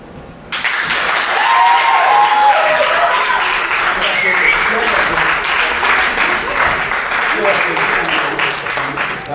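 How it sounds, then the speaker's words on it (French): A theatre audience breaks into sustained applause after a performance of Oedipus Rex, a dense roar of many hands clapping that starts abruptly and holds strong, with some voices mixed in. "merci pour tous ces applaudissements, ça me fait chaud au cœur"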